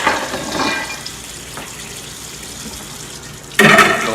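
Tap water runs briefly into a bowl for rinsing green beans, a soft splash at the start, quiet for a while, then a louder rush of running water near the end, with no talking.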